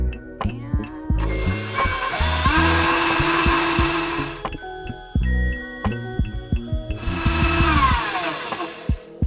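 A stand mixer stirs sugar cookie dough with a loud, close, rhythmic motor whir and clunking beat. The pitch steps and shifts as the speed changes, with a brief quieter stretch before the whirring rises again.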